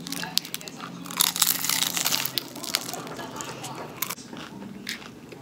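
A bite of taco being chewed up close, with crisp crunching and crackling bursts over several seconds that fade to softer chewing.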